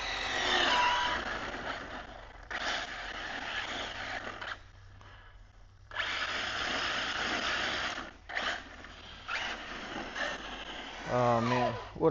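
An Arrma Felony RC car runs on a hot day, its electric drive whining and buzzing in long bursts broken by short pauses, and a voice talks over it near the end.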